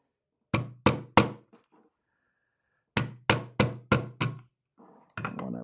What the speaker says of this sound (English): I need to be almost depressing that whilst also hammering this down